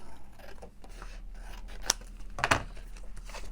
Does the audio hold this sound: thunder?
no